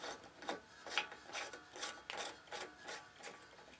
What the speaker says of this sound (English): So we're going to put our bulb in.